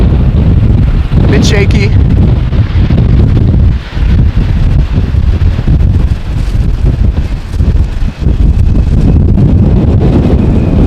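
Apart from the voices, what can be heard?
wind blowing against the camera microphone at an airport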